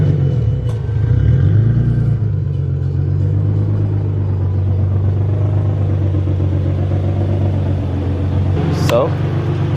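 Turbocharged Nissan 350Z engine rumbling steadily nearby as the car is driven out, a low continuous drone with a brief rise near the start and a sharp noise near the end.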